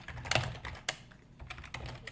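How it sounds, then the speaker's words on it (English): Someone types commands into a computer command prompt on a keyboard, producing a few distinct close key clacks and softer taps spaced irregularly, with no talk. "if I'm typing in commands"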